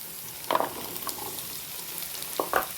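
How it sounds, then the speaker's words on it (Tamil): Onion frying with ivy gourd in sesame oil, a soft steady sizzle with a couple of brief stirring scrapes. "இப்போ நம்ம இதில் வெங்காயம் சேர்த்துக்க போகிறோம்."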